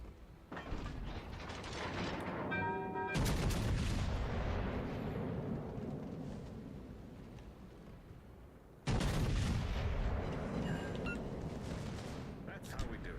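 Warship guns firing HE shells in World of Warships: Legends, two loud booming salvos, each with a sharp onset that trails off into a long rumbling decay, with mechanical clicks and a voice talking between them.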